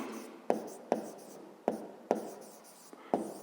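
A pen writes a math expression on paper in a fifth-grade maths lesson, giving close, crisp taps and scratchy strokes in an irregular rhythm, with a faint voice in the background.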